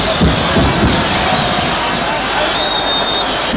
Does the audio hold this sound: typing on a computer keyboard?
no